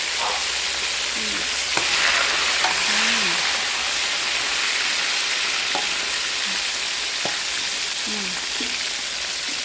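Fish fries in hot oil with a loud, constant sizzle and crackle and a few sharp pops, and faint voices occasionally rise in the background.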